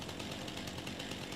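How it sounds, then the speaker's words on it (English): A chainsaw runs in the video game Farming Simulator 25, a loud continuous buzzing whine with a fast pulsing rhythm, close and steady for the whole moment. "Let me turn this chainsaw off again."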